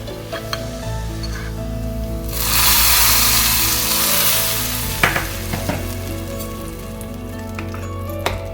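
Tempering for foxtail millet khichdi crackles and sizzles in hot oil, swelling into a loud broadband hiss midway, followed by a few sharp pops and clinks of a spoon against the pan, with no voices.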